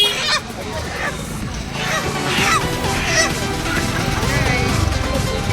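Roosters and hens, native country breeds, squawk and cluck amid the babble of people talking at a busy village market, close and lively throughout.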